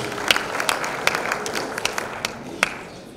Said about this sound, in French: On peut les applaudir, c'est la bonne réponse.